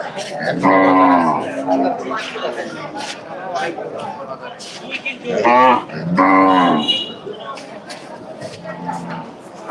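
Cattle at a weekly market moo repeatedly, several loud calls near and overlapping, while people talk and chatter throughout in the background.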